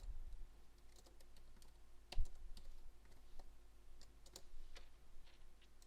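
Typing on a computer keyboard running Windows, a steady run of quiet, close clicks with a few sharper keystrokes, over faint background hum and no voices.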